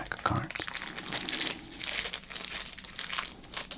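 Crinkly plastic wrapper of a 1988 Score baseball card pack crumpled and handled up close, in bursts of crackling with brief pauses, as a soft voice speaks beneath it.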